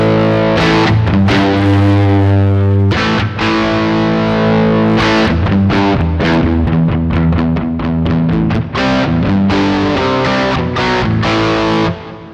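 An electric guitar plays through the plexi and blonde distortion channels of a Tech 21 Fly Rig 5 v2, with loud, sustained overdriven chords and rapid chugging riffs that continue without pause before ending in a fading ring.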